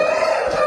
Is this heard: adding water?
no